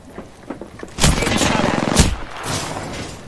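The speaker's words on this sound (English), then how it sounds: "I am taking fire" Bursts of gunfire in the shooter game Apex Legends, loud close volleys around the first and second seconds with a fainter rattle after, mixed with game noise.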